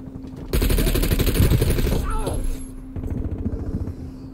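Rapid automatic gunfire in the multiplayer shooter Call of Duty: Black Ops Cold War on the Nuketown '84 map, a loud burst of close, rattling shots followed by a second, slightly quieter volley of fire.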